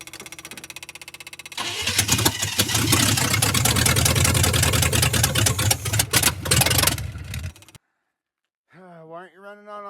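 A 1985 Chevy truck engine misfires, not running on all eight cylinders: it cranks, catches and runs roughly for several seconds before cutting out, and someone talks afterward.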